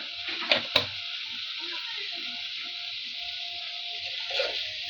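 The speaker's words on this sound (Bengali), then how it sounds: "আস্তে আস্তে এগুলো সিদ্ধ হতে থাক কষতে থাকুক" Vegetables and chicken bones frying and simmering in a pan, a steady soft sizzle with a couple of sharp stirring clinks near the start.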